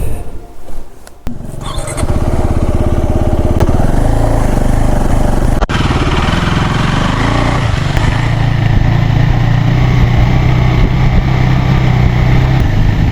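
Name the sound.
motorcycle being taken down and moved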